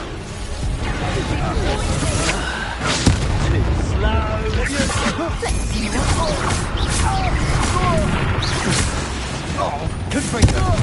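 Confringo fire spells and Bombard blasts burst repeatedly in a Hogwarts Legacy duel, a dense run of booms and crashes layered over battle music and shouting voices throughout.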